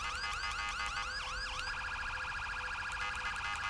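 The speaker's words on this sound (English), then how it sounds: "I may have to turn off my siren here." An electronic emergency siren on a fire truck in GTA V wails in rapid swooping cycles, then shifts to a steady high tone, loud over a constant engine rumble.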